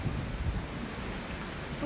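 A storm with heavy rain and a roaring sea at Digha on the coast makes a dense, steady wash of rain noise and deep rumbling. It is loud and continuous throughout.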